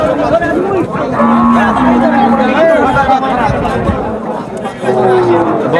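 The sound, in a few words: Sahiwal heifers and cattle at a livestock market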